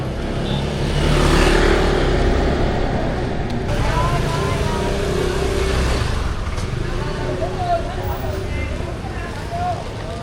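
A motorbike carrying kumquat trees rides by on a busy Vietnamese street, its engine hum passing amid traffic noise, with people talking close by throughout.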